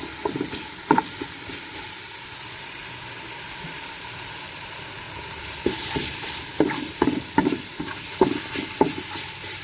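Aromatics for a clear pork-bone and bamboo-shoot soup are stir-fried in a pan, giving a steady close sizzle broken by a series of short scraping and tossing strokes, with no voices.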